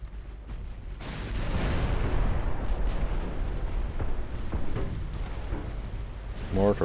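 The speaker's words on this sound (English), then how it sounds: "More torpedo hits on Montague." Torpedoes strike a warship in Ultimate Admiral Dreadnoughts, a loud sustained rumbling blast that swells and rolls on for several seconds before fading.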